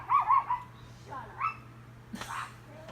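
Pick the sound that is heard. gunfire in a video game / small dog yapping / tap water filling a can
small dog yapping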